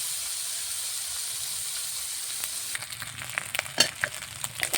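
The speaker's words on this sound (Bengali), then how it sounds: "মাছগুলো ভেজে নিয়ে" Lentil dumplings (bori) fry in oil in a pan. A soft, even sizzle gives way midway to busier crackling and clattering stirring sounds near the end.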